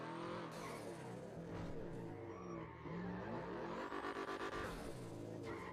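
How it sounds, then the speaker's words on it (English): A car engine in the video game GTA 5 runs and revs steadily, with shifting pitch and brief tire noise, fairly quiet and continuous with no talk. "I love the sound of the engine."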